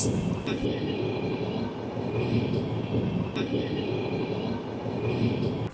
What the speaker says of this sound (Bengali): একদিক থেকে ওভারটেক করে বেরিয়ে যাচ্ছে আজমের শিয়ালদা